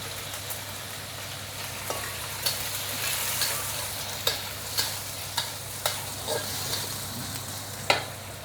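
Sea cucumber and shiitake mushrooms stir-fry with leeks in a wok, sizzling steadily while the spatula scrapes and clicks at irregular intervals over a low background hum.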